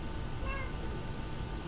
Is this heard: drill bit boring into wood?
no